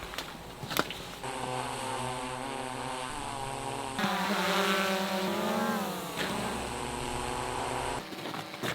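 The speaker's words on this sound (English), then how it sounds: "Oh, I hear the drone." A delivery drone buzzing overhead at a winter ice-fishing camp in Vermont, a steady loud whine with shifting pitch that swells in the middle and holds throughout.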